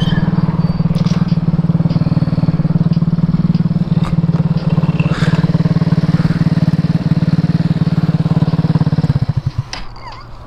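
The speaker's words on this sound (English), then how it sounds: "I think my cooling fan just blew up" Stunt scooter engine with a broken, half-missing cooling fan runs loud and steady with a low droning buzz and faint rattling clatter, then cuts out and dies away near the end.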